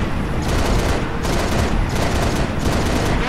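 Sustained bursts of gunfire aimed at shade turrets in Halo Reach, loud and close, coming in several rapid volleys with brief gaps between them and no talking.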